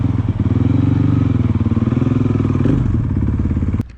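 A warmed-up Honda Grom motorcycle engine runs close by at a steady, even idle with a throbbing pulse, then cuts off abruptly with a click at the very end.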